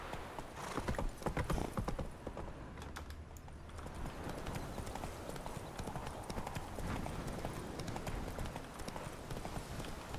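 Video game horse Roach galloping, a steady rapid clip-clop of hooves that runs the whole stretch, with a brief whinny early on and a voice talking over it now and then.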